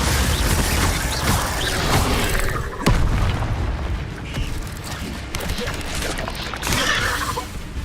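Confringo spell explosions in the video game Hogwarts Legacy, with loud booming blasts and mechanical clatter layered over dense game noise in continuous combat.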